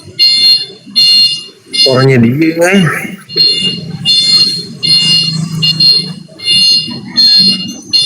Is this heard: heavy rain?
no